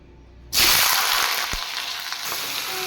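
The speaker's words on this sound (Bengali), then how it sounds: "তেলও গরম হয়ে গেছে এবার আমি সবজিগুলো ছেড়ে দেব" Vegetables drop into hot oil in a wok with a sudden loud burst of sizzling that keeps hissing steadily afterward, with faint stirring clatter underneath.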